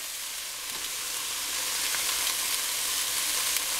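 Onions, carrots, celery and garlic sweat in a soup pot over medium heat, giving a steady, even sizzle that holds at one moderate level throughout with no voices over it.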